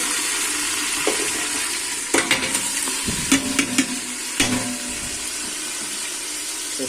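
Marinated mutton dropped into hot oil for Hyderabadi biryani: a steady loud sizzle and crackle throughout, with a few clattering stirs and scrapes of the pieces in the pan up close.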